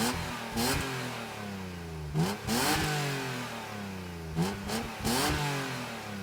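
A BMW Z3 M Roadster, about 25 years old with 25,000 miles, accelerates hard on the road, its engine rising in pitch through the gears, with three or four sharp shifts and fresh pulls, loud and close, with no speech.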